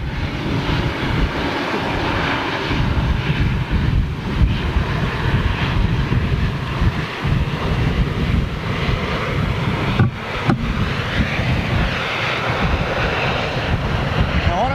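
A jet airliner of the 900 variant lands at Toulouse with thrust reversers deployed, giving a loud, steady, broadband engine roar with wind buffeting throughout and no talk.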